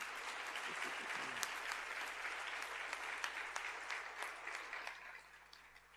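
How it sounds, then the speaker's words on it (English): An audience at a high school senior prizegiving applauds steadily, with dense clapping that keeps on and then fades slightly toward the end. "We can give them a round of applause, please."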